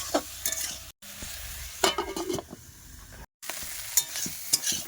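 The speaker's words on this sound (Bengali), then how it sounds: "লবণ হলুদ লঙ্কা গুঁড়ো সাত একসাথে দিয়ে দিয়েছি এবারে নাড়াচাড়া করে ঢেকে দেবো" Fish curry being stirred in a pan after salt, turmeric and chili powder are added, giving scraping stirs and a soft sizzle that come in bursts with two brief silent breaks and no talking.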